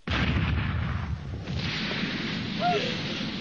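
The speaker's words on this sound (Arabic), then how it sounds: "مدفع، مدفع بيد القرويين." A cannon booms in an animated pirate cartoon, a heavy blast followed by a long rumbling roar that fades slowly, with a brief voice-like tone near the end.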